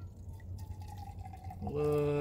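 Black coffee is poured from a Stanley Adventure All-In-One Boil + Brew French press, starting as a thin dribble and then becoming a steady stream that rises in pitch as the cup fills.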